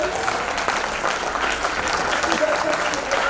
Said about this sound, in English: A big round of applause for all the new members.